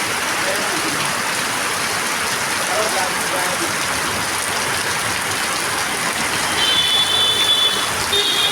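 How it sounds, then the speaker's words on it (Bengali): Heavy rain pours down in Tamluk, a loud unbroken hiss of downpour on surfaces, with faint reversing beeps chirping near the end. "দেখুন কেমন বৃষ্টি হচ্ছে, দেখুন কোনো আওয়াজটা দেখছেন, প্রচুর আওয়াজ"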